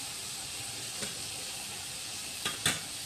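Onion, cumin, curry leaves and dry chillies fry in oil for bitter gourd fry, producing a soft, steady sizzle with a few sharp stirring clinks near the end.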